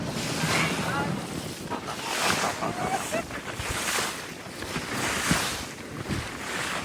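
Sea waves surging at a sea mouth where a backwater meets the sea near a mangrove forest in Pondicherry, heard from a boat, with continuous rushing surf, wind buffeting the microphone and people talking over it.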